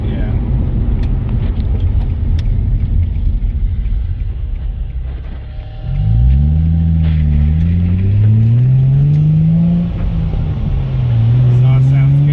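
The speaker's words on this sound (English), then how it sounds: "Exhaust sounds good." A Nissan 350Z on a test drive after a fuel system and fuel pump install, its engine and exhaust droning loudly inside the cabin, then rising through the gears in long climbing pulls with a shift between them.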